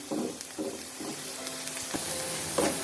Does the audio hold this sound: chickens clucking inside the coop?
no